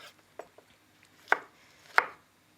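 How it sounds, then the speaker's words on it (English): A knife chops tomato into small pieces on a cutting board, giving a few light, sparse, close knocks, with two sharper strikes standing out in a quiet kitchen. "So we're just going to chop this into small pieces."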